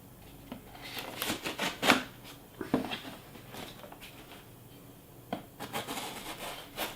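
A knife cuts open a cardboard box from Amazon, making close scratchy rasps and rustling bursts in irregular clusters with short pauses between them.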